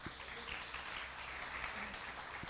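Church congregation applauding after a testimony, a steady wash of clapping filling the hall throughout, moderately distant and even, with faint voices in the background.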